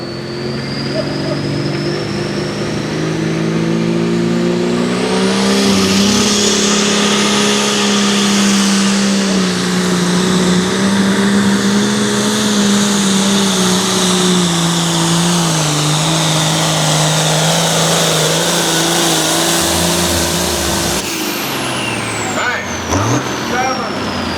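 A heavy Cummins diesel tractor engine at a tractor pulling event roars loud and close, holding a sustained, strained pitch that rises and dips, then cuts off abruptly near the end.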